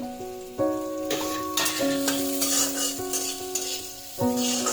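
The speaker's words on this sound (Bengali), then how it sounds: "এবার একসাথে সব উপকরণগুলি দিয়ে ভালো করে নেড়ে ছেড়ে হালকা বাদামি রং আসার জন্য ওয়েট করব" Carrot and curry leaves being stir-fried for a poha dish: a close, continuous sizzle with scraping stirring strokes, and sustained musical tones running underneath throughout.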